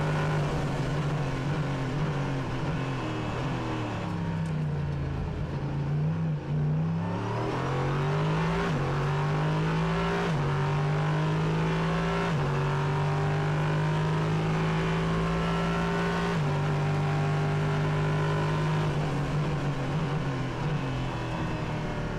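Naturally aspirated 5.6 litre Nissan V8 in a Prototype Cup Germany race car at Hockenheimring, roaring loud and close on board, its pitch climbing through gears with brief dips at each shift, continuous throughout.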